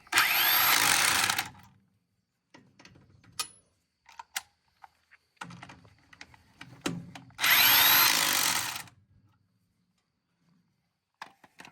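An impact wrench works the lug nuts on a farm tractor wheel, firing two loud, close rattling bursts of about two seconds each, separated by quieter clanks and handling noises.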